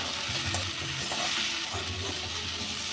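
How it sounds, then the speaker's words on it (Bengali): Cauliflower and potato pieces frying with spices in a pan for a Gobindobhog rice dish, a steady close sizzle with scraping stir strokes throughout and no talking. "ফুলকপি আলুটাও মশলার সাথে ভালো করে কষে নেব।"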